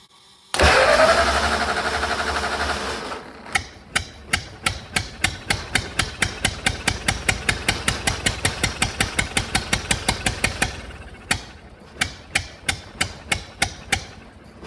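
A 104-year-old engine is cranked with a loud buzzing whir, then fires into slow, evenly spaced pops and thumps that continue for several seconds, stop briefly, and resume at the same loping beat.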